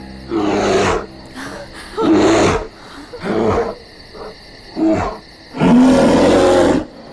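A bear in a survival thriller film lets out several loud, close roars in separated bursts, each rising and falling, with the longest and heaviest roar coming at the end.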